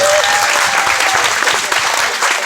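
Audience applause for the cooks at a church prayer-group faith retreat, a dense, steady wash of many hands clapping close and loud throughout.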